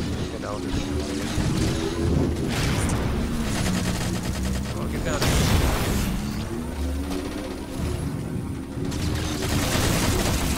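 Sustained bursts of automatic gunfire rattle through a Halo 4 match alongside in-game effects and music, loud and continuous with rising and falling intensity.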